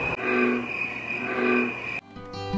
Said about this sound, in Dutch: Soms hoor je een hele grappige kikker, dus ik laat hem even aanstaan.